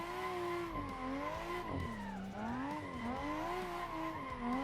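A car spinning out during a drifting drill, engine droning steadily while tires squeal and skid continuously, loud and close throughout.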